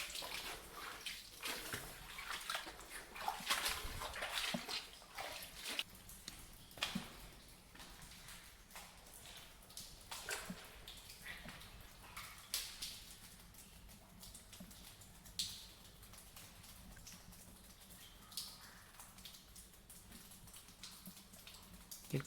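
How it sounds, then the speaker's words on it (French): Water trickles and drips constantly through formations in an underground river cave, Tham Lot Phraya Nakarat in Thailand, a continuous wet patter with scattered louder drips, close and steady throughout with no voices. "Quelques formations sympas avec de l'eau qui ruisselle et qui goutte sans arrêt."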